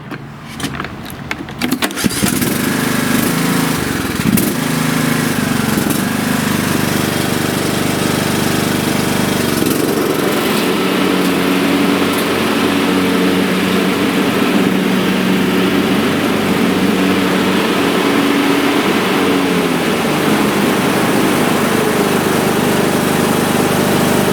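A Troy-Bilt MTD Cub Cadet riding mower starts with its deck disengaged. A brief cranking catches into a loud, close engine that then runs and idles steadily, with a slight shift in pitch partway through and no speech.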